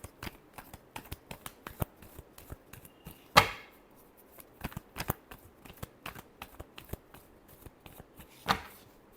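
Tarot cards being shuffled, a quick run of crisp riffling snaps and flicks at close range, with two louder slaps along the way.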